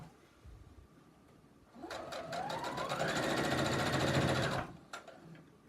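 A sewing machine stitching fabric for a beach tote starts after a quiet moment, runs in a rapid, steady mechanical chatter for about three seconds, then stops, close by with no talk.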